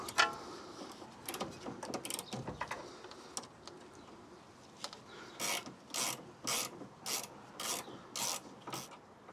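A wrench loosening the bottom nut of a BMW E65 7 Series sway bar drop link: scattered scraping and metal handling, then a run of rapid, regular ratcheting bursts, close and fairly quiet.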